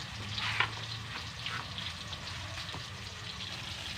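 Ingredients for burong isda (fermented rice with fish) are sautéed in a pan, making a soft, continuous sizzle with a brief louder crackle early on and faint stirring clicks.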